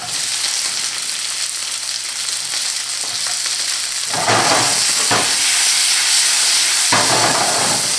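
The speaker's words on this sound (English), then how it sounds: "I'm going to add my tomatoes." Tomatoes hit a pan of frying, browned onion for red beans, raising a loud, continuous sizzle and hiss that swells sharply midway with bursts of steam, with no talking.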